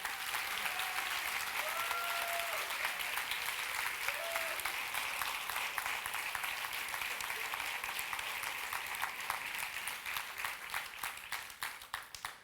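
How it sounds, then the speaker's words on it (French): Sustained audience applause for a retiring teacher at an education keynote event, a dense, even wash of many hands clapping that continues for over ten seconds with brief voices or whistles early on. "On peut tous l'applaudir."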